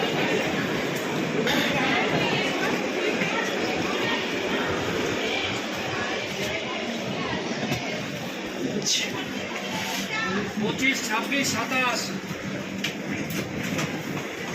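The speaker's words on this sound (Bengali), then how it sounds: "ট্রেন ছেড়ে দিল, 2 ঘন্টা লেট চলছে ট্রেন।" A train departing two hours late rumbles and clatters steadily from inside a carriage, wheels clicking rhythmically, with people talking faintly underneath throughout.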